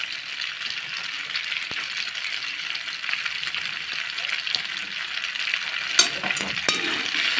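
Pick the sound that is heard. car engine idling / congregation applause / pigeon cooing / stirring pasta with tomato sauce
stirring pasta with tomato sauce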